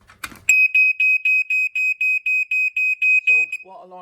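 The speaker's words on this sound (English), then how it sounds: "this is just a basically an EI Electronics smoke alarm" An EI Electronics smoke alarm sounds during a test, giving a loud, close run of about a dozen rapid high-pitched beeps in even pulses, and a voice briefly speaks at the end.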